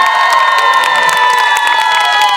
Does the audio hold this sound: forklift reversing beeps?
no